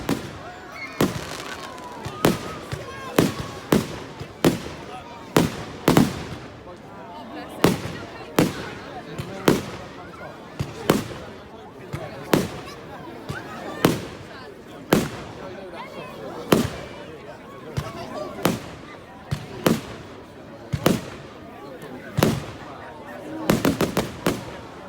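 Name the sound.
fireworks exploding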